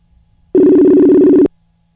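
A single loud electronic ring tone of an outgoing phone call sounds for about a second, steady and buzzy, then cuts off into near silence.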